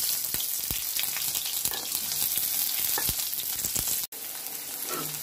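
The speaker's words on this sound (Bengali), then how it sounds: "তেল গরম হয়ে গেছে, তো প্রথমে আমি পেঁয়াজগুলো দিয়ে দেব।" Onions dropped into hot oil in a pan crackle and sizzle at close range, a steady frying hiss broken by sharp pops and a brief dropout near the end.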